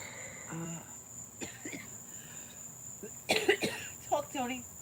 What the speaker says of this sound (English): coughing into her mouth